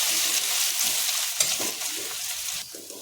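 Ginger and garlic frying in oil with cumin in a pan for a mixed vegetable sabzi, giving a continuous close, crackling sizzle with small bursts of spatter.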